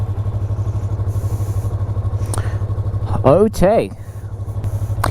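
A 2020 Yamaha R3 Monster/MotoGP Edition sport bike idles close by with a steady, even pulsing throb, while someone speaks briefly over it.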